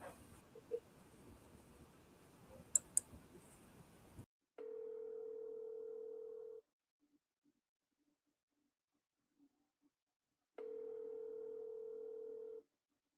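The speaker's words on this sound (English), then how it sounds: "Phone call." A steady telephone dial tone sounds twice while a call is placed, each a flat continuous hum of about two seconds with a quiet gap between, after a brief burst of clattering noise at the start.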